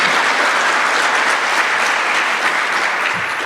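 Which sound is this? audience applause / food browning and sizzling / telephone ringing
audience applause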